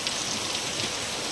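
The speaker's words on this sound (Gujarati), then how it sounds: "વરસાદ બહુ પડે છે અત્યારમાં" Heavy rain pours down steadily in a windy downpour, a close, continuous hiss of drops on surfaces with no talk.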